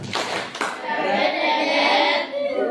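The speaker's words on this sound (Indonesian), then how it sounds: "berikan tepuk Superman" A school class group claps the rhythmic Superman clap together during a classroom session. The quick burst of clapping sounds close and steady, and children's voices mix in over the hands.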